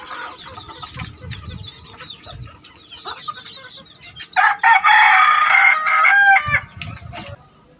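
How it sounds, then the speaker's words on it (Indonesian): Chickens cluck softly in the background while a rooster crows loudly and close by partway through, followed by more low clucking; no talking. "Ayam taunya petak-petak aja lu Yam."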